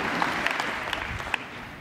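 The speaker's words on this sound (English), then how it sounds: "Clap it up, clap it up." Audience clapping at a motivational speaking event, a dense patter of many hands with a few sharper claps standing out, moderately loud and steady throughout.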